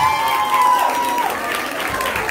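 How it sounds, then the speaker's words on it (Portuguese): An audience applauds and cheers at the winners' announcement of a samba school's queen election in 2023. The applause is moderately loud and runs continuously, with a voice audible over it. "Uma enorme salva de palmas"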